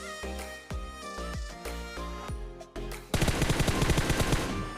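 Gunfire in a battle royale shooter during a solo versus squad fight: several loud single shots with ringing tails, then a fast, dense automatic burst close up, with no talking.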